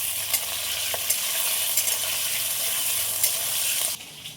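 Capsicum stirred as it fries in oil gives a dense, constant sizzle with scraping stir strokes. It cuts off abruptly just before the end.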